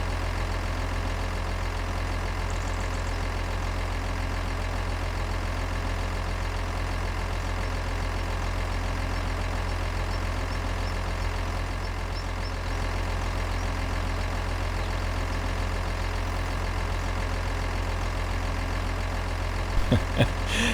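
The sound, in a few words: truck engine idling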